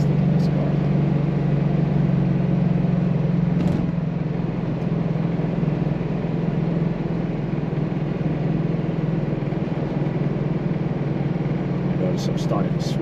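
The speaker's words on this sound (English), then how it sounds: "Smooth running and driving car, very tight." A 1966 Mercedes-Benz 230 Fintail driving on the road, a steady mid-pitched engine hum with road and cabin noise, constant and close, with a brief click and light sounds over it.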